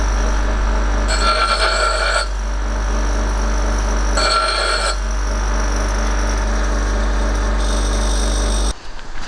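A bench grinder smooths and deburrs the line holes in homemade spoon-shaped lead fishing sinkers for bottom fishing, its steady motor hum broken by two loud, roughly one-second grinding bursts and a fainter third contact, then an abrupt stop.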